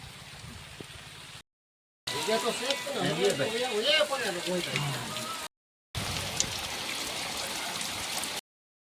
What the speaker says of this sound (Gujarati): આમ જો વરસાદ જુઓ તમે.